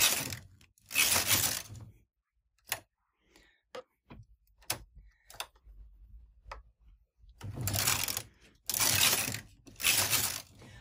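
A single-bed knitting machine carriage sweeps across in long rasping passes as rows are knitted, close and fairly loud, with clicks and small handling noises in the gaps between passes.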